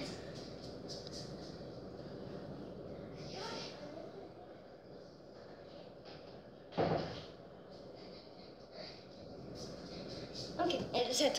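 A door is pushed shut indoors with one sharp thud midway, followed by some faint shuffling and a couple of smaller knocks, with a person talking around it.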